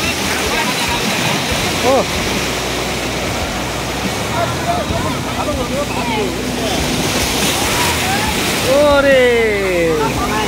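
Water surging and crashing at the Digha river mouth, a continuous loud roar of surf with wind, while someone talks over it and exclaims.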